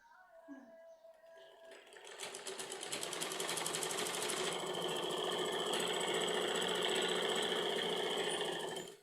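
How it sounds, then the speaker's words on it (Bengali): Sewing machine stitching fabric pieces together from the top edge down, running loud and steady for most of the span after a brief quieter start. "অর্থাৎ উপরের দিক থেকে আবার সেলাই করে নেব নিচ পর্যন্ত"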